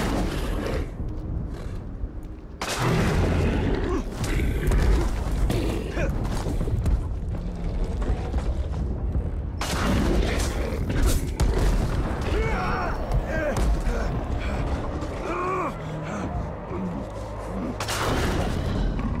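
Explosives shot on a siege beast in Middle-earth: Shadow of War, heavy booming blasts and rumbling creaks, loud and close, sustained in dense bursts with a voice talking over parts of it.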